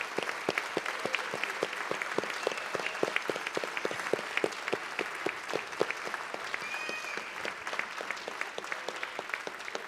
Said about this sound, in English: a round of applause for all of our recipients tonight and all of the years of service